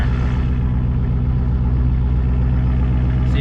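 A 1000HP Jeep Trackhawk engine held against the brakes gives a loud, steady, deep pulsing rumble at raised revs, close up and constant throughout, with no talking.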